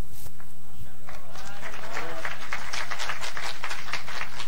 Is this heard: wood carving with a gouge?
no